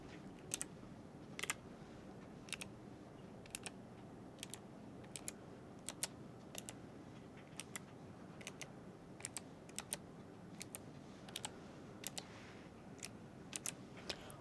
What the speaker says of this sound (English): Do you prefer slow typing like this?